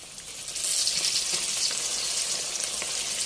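Minnow fish go into hot oil for deep frying, giving a dense, bright sizzle that rises sharply and then holds as a steady crackling hiss with small pops.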